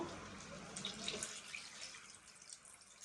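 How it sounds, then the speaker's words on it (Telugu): Water runs and splashes steadily into a cooking pot, a soft continuous trickle with light drips, close by and without speech. "ఇందులో అయితే నేను కొంచెం వాటర్ పోసుకుంటాను"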